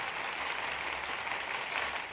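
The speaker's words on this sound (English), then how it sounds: "Yo, let me know if you can hear this applause." Recorded applause sound effect played back by a host in a studio, a steady even crowd-clapping wash heard alone at moderate level with no talk over it.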